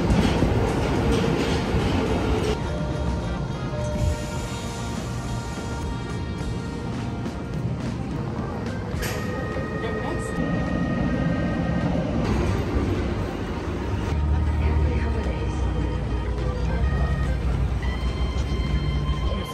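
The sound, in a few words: subway train in Tokyo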